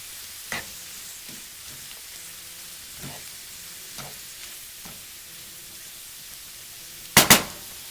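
Leeks and white onions sweat in butter in a pan, a soft continuous sizzle with several light stirring taps and a sharp double clatter near the end.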